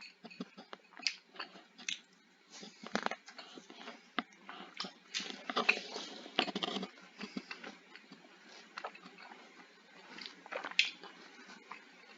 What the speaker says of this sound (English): if you hear crunchy noises, I'm eating grapes